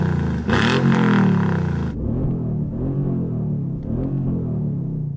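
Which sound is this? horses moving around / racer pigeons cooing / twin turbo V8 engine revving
twin turbo V8 engine revving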